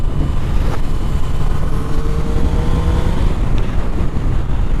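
A motorcycle engine hums steadily on a road in south Wales, a loud continuous drone with wind rush and a slight rise in pitch as it accelerates.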